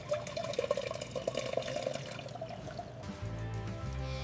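Juice pouring and splashing steadily into a cup, with the tone rising briefly as it fills, then a low hum.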